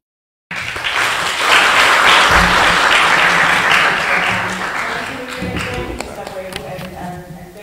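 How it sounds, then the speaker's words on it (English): An audience at an MTN regional business tour event in Manzini breaks into a loud, dense round of clapping that starts abruptly and holds steady, tapering slightly toward the end. "let's give a round of applause"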